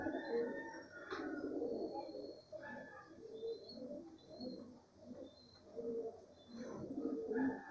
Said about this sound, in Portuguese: E o macho dessa pomba aqui, ó. Que tá chocando aí